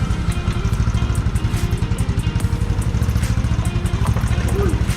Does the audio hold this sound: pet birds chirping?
no